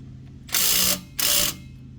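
A ratchet tightens an AWE 0FG exhaust on a 2019 GMC Sierra, giving two loud, close bursts of rapid clicking, each about half a second long, separated by a short pause over a low background hum.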